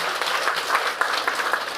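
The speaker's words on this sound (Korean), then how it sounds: "이럴 때는 큰 박수 한번 치셔도 상관없습니다." An audience at a company vision presentation claps in a dense, steady round of applause, moderately loud and brief, with no talking over it.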